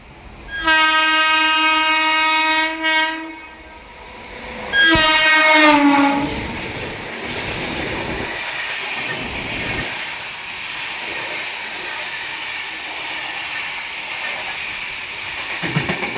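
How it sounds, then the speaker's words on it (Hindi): Tejas Rajdhani Express, New Delhi to Mumbai Central, crossing on an Indian line: two long, loud horn blasts with a short gap, then the rushing roar of the passing train that settles into a steady, softer rumble and hiss. "चलिए दिखाते हैं इसकी क्रॉसिंग। राजधानी एक्सप्रेस, तेजस राजधानी एक्सप्रेस, नई दिल्ली मुंबई सेंट्रल।"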